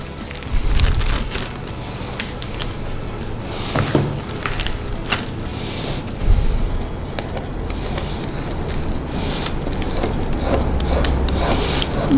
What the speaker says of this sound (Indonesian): Jadi coklat putih tadi saya serut semua